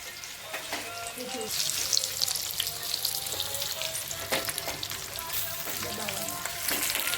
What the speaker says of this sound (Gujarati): આ રીતે ધીમે ધીમે હલાવતો રહેવાનો છે ખજૂરને